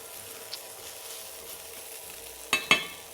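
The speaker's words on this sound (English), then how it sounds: "And this we all saute off a little bit for them to develop the aroma and to get cooked a little bit at the same time." Ingredients for a sweet tomato-chilli jam sauté in a pan, giving off a faint, low sizzle that runs steadily, then two sharp stirring clatters of a utensil near the end.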